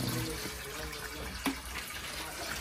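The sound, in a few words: water filling a washing machine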